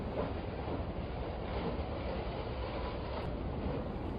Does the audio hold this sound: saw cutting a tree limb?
no